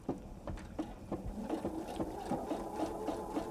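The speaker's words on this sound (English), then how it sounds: "And do our second row of stitching." A sewing machine runs steadily as it stitches a second row on a tote bag, with a rhythmic mechanical hum and repeated needle ticks, close up and with no speech.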